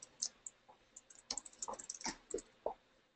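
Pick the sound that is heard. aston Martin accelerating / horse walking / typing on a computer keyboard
typing on a computer keyboard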